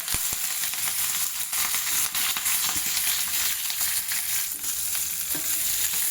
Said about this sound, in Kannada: ಎಣ್ಣೆ ಕಾದ ನಂತರ ಸಾಸಿವೆ ಜೀರಿಗೆ ಹಾಕೋತಾ ಇದ್ದೀನಿ ಹಾಗೆ ಕರಿಬೇವಿನ ಸೊಪ್ಪನ್ನ ಹಾಕೋತಾ ಇದ್ದೀನಿ